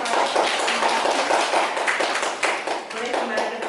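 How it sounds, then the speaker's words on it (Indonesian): A classroom of students claps for a presenting group, dense overlapping hand claps forming steady, lively applause that stays loud and even, with some voices mixed in. "Kita beri tepuk tangan untuk kelompok 1."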